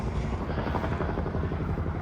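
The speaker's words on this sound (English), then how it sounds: "It's a bloody helicopter again." A helicopter flies overhead at an outdoor vintage truck and tractor show, its dense rotor thrum steady and loud throughout, with no talk.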